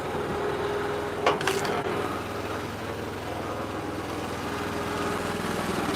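A small engine on a wood splitter runs steadily at idle while sugar maple is being split, a continuous low mechanical drone with a brief higher-pitched whine partway through and no voices.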